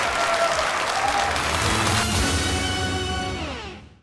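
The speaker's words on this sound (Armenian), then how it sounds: "եկեք չխնայենք այս ծափերը" A studio audience at a talent-show semifinal claps loudly in a dense, sustained burst of applause that holds steady for several seconds before fading out.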